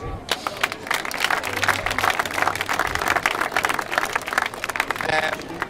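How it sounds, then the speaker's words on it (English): Crowd at a GAA club finals gathering clapping for the club organisers, a lively spread of individual hand claps throughout, with some voices mixed in. "if we can give a big clap to all that"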